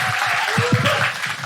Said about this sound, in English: Another round of applause for Katie Green!